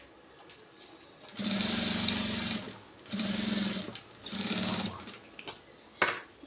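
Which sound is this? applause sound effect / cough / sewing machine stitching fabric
sewing machine stitching fabric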